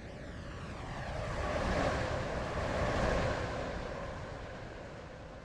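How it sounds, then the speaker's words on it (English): A train rushes through a station on Stepford in the Roblox game without stopping, a loud steady roar that swells to a peak in the middle and then slowly eases off, with no voices over it. "The train now approaching Platform 2 does not stop here."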